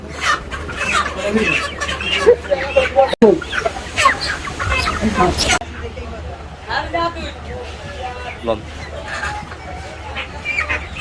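Caged chickens at a crowded poultry market keep up a constant, overlapping clucking, close and lively, beneath nearly continuous conversation between buyers and sellers.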